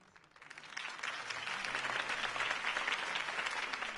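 A crowd in Batman: The Telltale Series breaks into applause after a campaign speech, rising from quiet into sustained, fairly distant clapping and cheering that holds steady to the end.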